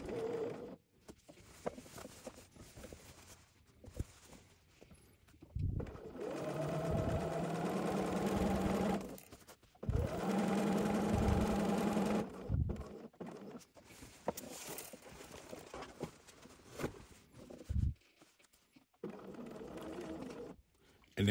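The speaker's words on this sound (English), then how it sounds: "we're going to sink our needle down again, lift up our foot, and turn our piece so that we can continue stitching" A sewing machine runs in two bursts of several seconds each as fabric is stitched and turned at a corner, with quiet pauses and soft handling noises between them.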